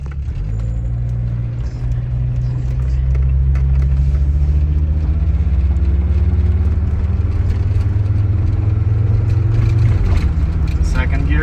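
A Volvo 850 T-5R engine drones loudly from inside the car as it pulls away on its first drive, pitch rising gradually through a gear before a shift near the end, with someone talking over it.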